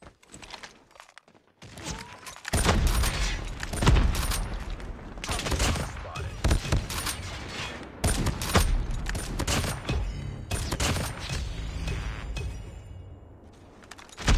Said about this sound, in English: That was a lot of shots.